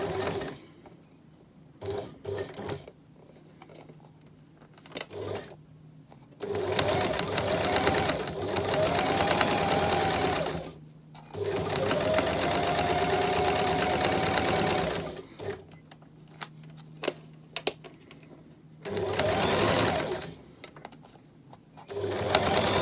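Sewing machine stitching a French seam in fabric: several long steady runs of fast mechanical whirring, close and loud, separated by short pauses with small clicks between them.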